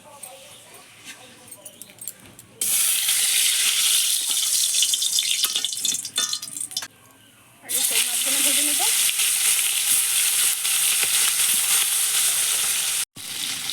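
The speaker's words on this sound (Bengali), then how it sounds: "আমি এবার এই তেল গরম তেলেই মাছগুলো ভেজে নেব" Koi fish frying in hot oil in a kadai, loud crackling sizzle that bursts in, breaks off briefly, then returns strongly, with faint background talk and a soft bark early on.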